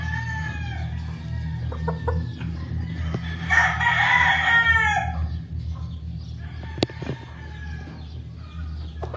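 Rooster crowing prominently over a steady chorus of clucking pullet chickens on a poultry farm in the Philippines, with constant low barn hum and a sharp click near the end.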